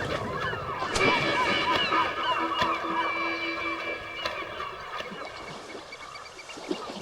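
Gulls call over a salmon river, a cluster of harsh, overlapping squawks and cries at moderate distance, repeating throughout against a busy natural background.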